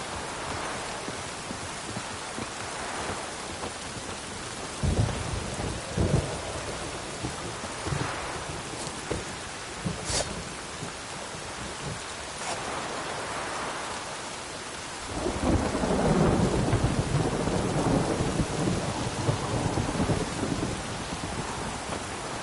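Steady rain hisses throughout a Witcher 3 game scene, broken by several rolling thunder rumbles and sharp cracks, with a heavier, louder downpour swelling in the second half; no voices.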